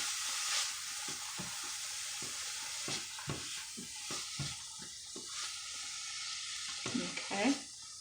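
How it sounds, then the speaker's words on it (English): Food fries in a pan with a continuous soft sizzle and hiss while a utensil stirs it, scraping and knocking against the pan in an irregular rhythm, close and fairly quiet. "And we'll stir that some more."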